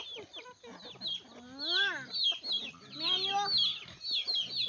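Several chickens being fed in a rural northeastern Thai yard cluck and squawk close by, their rising and falling calls overlapping in a busy, uneven stream.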